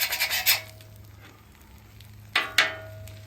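Pork frying in fat with butter on a Blackstone griddle makes a low, steady sizzle, broken by a few sharp scrapes of a spatula across the flat-top, first in a quick run and later as two separate strokes.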